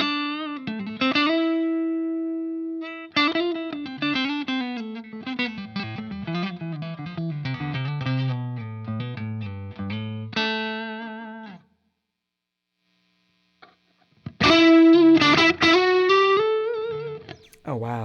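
High-gain electric guitar through a Strymon Iridium with room reverb, distorted chords and bent lead notes ringing out, a short silence, then a loud burst of chords returns.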